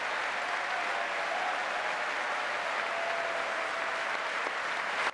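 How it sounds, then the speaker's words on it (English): Sustained applause from women members of the U.S. Congress for President Trump fills the chamber, a steady dense clapping wash at moderate distance, fairly faint, without voices rising above it. "stood and applauded Trump"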